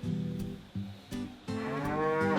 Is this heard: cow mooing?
yes